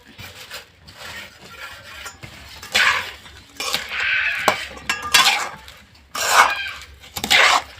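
A utensil scrapes and stirs a rice mixture with jaggery in a pan, with intermittent rasping scrapes and soft metallic clinks in an uneven rhythm, close and fairly loud, with no talking.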